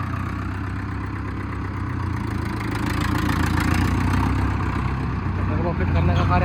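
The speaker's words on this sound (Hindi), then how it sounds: "वो आवाज़ देखो ट्रैक्टर की" A Mahindra Arjun Novo tractor engine, newly fitted with a turbo, runs at a steady diesel idle with a throbbing low rumble, close and continuous, while someone talks over it.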